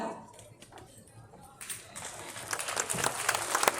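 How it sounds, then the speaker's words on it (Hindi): Audience applause for a prize winner at a school award ceremony in Vaishali district, Bihar, starting faint and swelling into dense clapping in the second half, with voices in the room. "जोरदार तालियां इनके लिए।"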